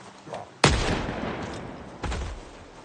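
A loud, close gunshot rings out in the zombie survival game Project Zomboid, followed about a second and a half later by a second, slightly softer shot, each trailing off in a long echoing tail.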